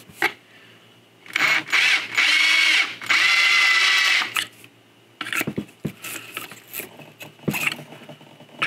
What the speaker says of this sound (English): I'm gonna drill a hole on this guy.